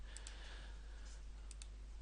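A few sharp, quick mouse clicks sound close by in small pairs over a quiet background, clicking in Adobe Photoshop CS5.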